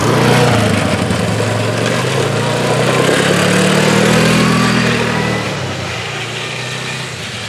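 A Polaris 425 four-wheeler, brought back after three years of not running, idles steadily at close range with a broad, rough mechanical drone that swells slightly mid-way, then settles a little quieter.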